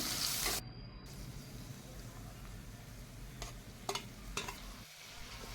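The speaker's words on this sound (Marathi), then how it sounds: "कांदा आपल्याला हलका ब्राऊन होईपर्यंत फ्राय करायचे।" Chopped onion, garlic, ginger and green chili frying in a pan for paneer masala. A loud hiss at the start drops to a steady, softer sizzle, with a few sharp stirring clicks near the end.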